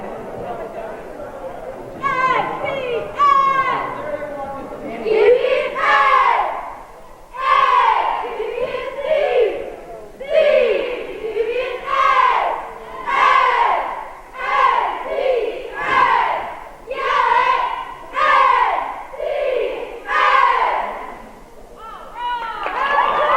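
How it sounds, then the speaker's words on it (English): A crowd in a school gym cheers and shouts in repeated surging bursts during a 1995 moderate-level boys basketball game between Northeastern Clinton and Beekmantown, the chanting voices loud and close with rhythmic swells. "Looks like a great big cheer here."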